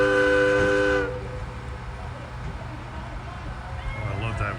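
A steam locomotive on the Valley Railroad in Connecticut ends a loud whistle blast in the first second, followed by steady train rumble and low background noise.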